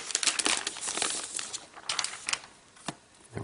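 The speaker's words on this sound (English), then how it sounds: "we're just going to pull this tab to break the seal, and we're going to slide it out of this envelope" A new Retina MacBook Pro being slid out of its paper envelope after the seal tab is pulled: close, quiet crinkling and rustling of paper, with a few sharper crisp ticks scattered through.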